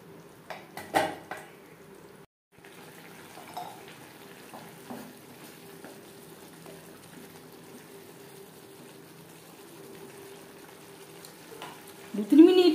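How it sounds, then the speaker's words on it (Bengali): Chickpeas being stirred into spices in a pan for chana masala, a low steady sizzle with scraping stir sounds and a few louder clinks near the start and end. "ছোলা বেশ ভালো করে মিক্সড করে দেব।"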